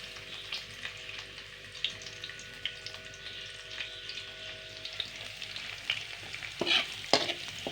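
Garlic frying in a pan as the first step of bhindi masala, a steady soft sizzle with faint stirring scrapes and a couple of brighter clinks near the end, no talking.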